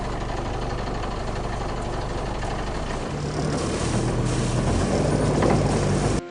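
Constant droning rumble of a boat engine running steadily through El Capitan Passage, with wind buffeting the microphone throughout.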